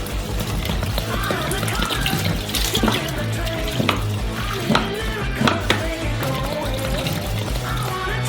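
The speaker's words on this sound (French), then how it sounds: "et on verse dans une casserole." Milk pours steadily into a metal saucepan, splashing continuously, with scattered clinks of cookware throughout.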